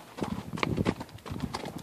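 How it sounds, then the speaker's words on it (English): Horse hooves clip-clop at an uneven walking pace on a trail ride in Cave Creek park, fairly close but soft, with a few faint background sounds and no clear talk. "I'm telling my horse where to go through."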